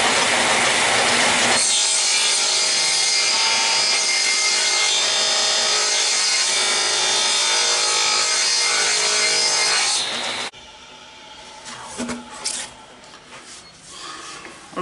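A saw cuts a curved groove into wood with a steady, close, rasping whine lasting about eight seconds, then stops, leaving quieter workshop handling noises.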